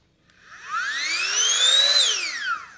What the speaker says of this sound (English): This backpack actually has a vacuum sealer.